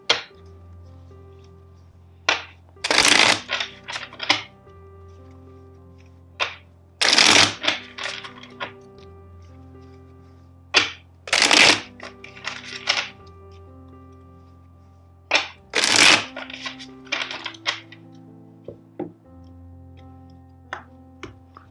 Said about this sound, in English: First, let's shuffle the deck four times.